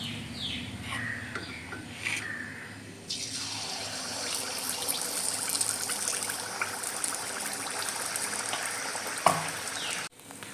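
Neyyappam batter hits hot oil in a pan, breaking into a loud, continuous bubbling sizzle after a few quieter seconds, with a sharp clink near the end.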